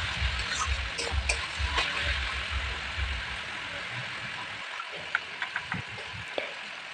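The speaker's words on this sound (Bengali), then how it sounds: "তো আবার নাড়াচাড়া করছি এইভাবে" Bottle gourd curry frying and being stirred in a pan gives a quiet, continuous sizzle with soft spoon scrapes and shuffles throughout, without talk.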